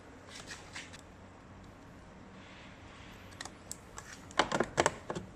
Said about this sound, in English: You have a clip sound, so that means it's done.